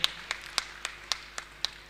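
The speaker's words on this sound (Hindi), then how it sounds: "आप जोरदार ताली बजाकर सभी का सम्मान करें।" Hand claps at a religious gathering with a monk's discourse, heard as a few sparse, evenly spaced individual claps, fairly faint, with no chatter or broad applause.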